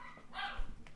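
Two dogs barking indoors, a single sharp bark burst with a short yip after it, fairly close, no speech over it.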